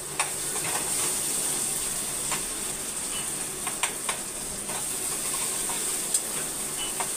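Onion and tomato fry in a pan for a Gudi Padwa festive meal, a steady close sizzle and hiss with a few light clicks of stirring, no talking over it.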